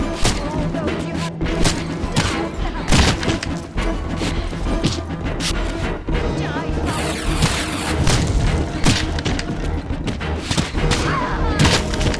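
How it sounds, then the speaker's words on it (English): Explosions and heavy crashing impacts from the action game Legacy of Kain: Defiance, loud booms and thuds recurring throughout amid dense combat noise, with a voice talking over parts of it. "I wonder if that explosion is actually easier to attack."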